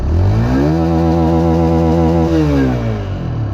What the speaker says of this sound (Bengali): মানে স্পোর্টসে একটা সাউন্ড কিন্তু হচ্ছে বাইকটা থেকে